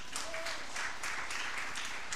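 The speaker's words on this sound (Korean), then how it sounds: "하나님께 영광의 박수를 드립니다" A church congregation at a Sunday worship service claps together in a steady, fairly soft rhythm of roughly even beats, with no talk over it.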